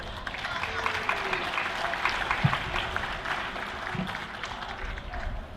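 An outdoor climate rally crowd applauds a speaker being introduced, steady, moderately loud clapping that carries on evenly for several seconds, with faint crowd voices under it.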